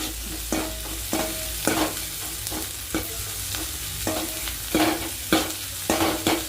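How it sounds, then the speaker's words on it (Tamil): Onions sautéed in a pan for a broken-egg curry, a steady sizzle broken by regular scraping strokes of a spatula, repeated rhythmically and close up without speech. "இன்னும் கொஞ்சம் வதங்கட்டும் வெங்காயம்"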